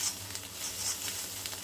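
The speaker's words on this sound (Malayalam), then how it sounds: "നമ്മൾ ഈ കക്ക വറുത്തെടുക്കാതെ റോസ്റ്റ് ചെയ്തെടുക്കുകയാണ് ചെയ്യുന്നത്." Clams roasted in a pan with crushed pepper give a quiet, steady sizzle with faint crackle, brief and close, with no talk.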